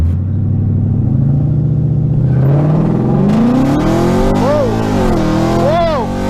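A 2011-or-later S197 Ford Mustang 5.0 with an AIRAID cold air intake launches hard and breaks its rear wheels loose: a loud, close engine roar climbs steadily in pitch over several seconds, joined near the end by wavering squeals from spinning tires.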